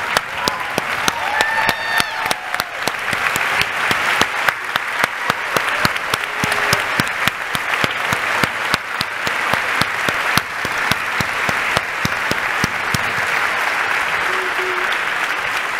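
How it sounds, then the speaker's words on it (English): Steady, dense applause from a large audience fills a community foundation's annual meeting hall, sustained and even throughout with no talk over it. "So join me in giving Pascale a round of applause."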